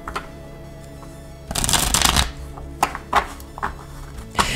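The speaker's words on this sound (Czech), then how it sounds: "Ještě mi chodí víc si tu zamíchat ty karty." Tarot cards are shuffled by hand at a table in several quick riffling bursts, one long loud shuffle followed by shorter, softer flicks, close up with no talking.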